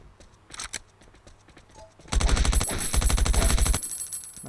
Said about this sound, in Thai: เจอคนนะไม่รู้เขามีปืนไหมข้างในยิงกันรัวแล้ว